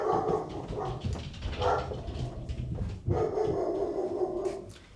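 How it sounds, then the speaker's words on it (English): A pet dog barks repeatedly in the background of a room, a string of sharp, moderately loud woofs with short pauses, alone without talk. "you know that my dog isn't a big fan of skip counting by 4s"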